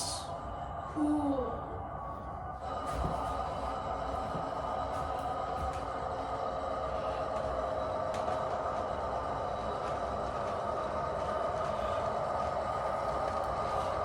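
Steady low mechanical hum and rumble of a model locomotive's sound decoder startup, with a brief whistle-like tone early on, continuing evenly throughout.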